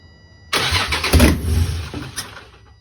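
Nissan G35 with a swapped VHR engine cranks and catches after a brief quiet moment, then revs up loudly and settles into a rough, uneven running sound nearby.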